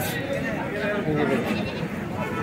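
Goat bleating at a busy traditional Rail Bazar haat livestock market where a mother goat with her kid is for sale, a close wavering cry amid loud voices talking.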